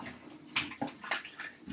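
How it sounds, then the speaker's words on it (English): Cold tap water runs over celery sticks being washed in a kitchen, a soft splashing stream with brief louder gushes as the stalks move under the flow. "I've got 4 sticks of celery. We're gonna wash them under cold running water."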